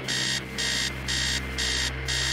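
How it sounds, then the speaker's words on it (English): Alarm clock blaring upstairs in an abandoned house in the game Stories Untold, a loud electronic beeping in four regular bursts over a steady low hum, with no voices. "Upstairs, the sound of an alarm clock blaring."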